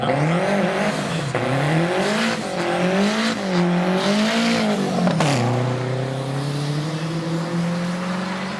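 A 1985 Porsche 944 Turbo Cup race car at a hillclimb revs hard nearby, its engine note rising and dropping through several gear changes before settling into a steady, loud drone.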